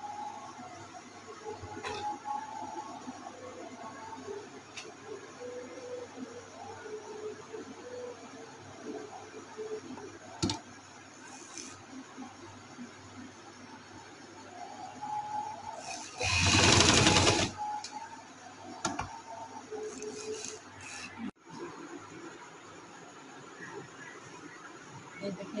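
An electric sewing machine stitches the inner seam of a ladies' trouser, humming steadily through most of the stretch with a louder, fast burst of stitching near the end, while someone talks over it in places.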